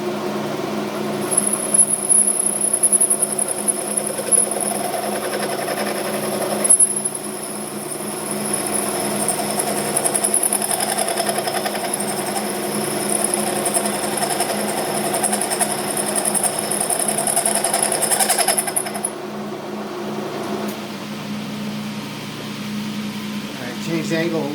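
Hendey metal lathe turning a bearing driver with a cutter not suited to the job, giving a steady mechanical whine and hum with a high-pitched cutting tone that drops out near the end.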